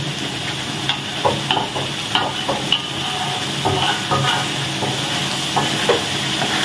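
Spice paste sautéing in a hot pan until crisp, a constant loud sizzle and hiss with a spatula's scraping and tapping strokes stirring it at an irregular rhythm.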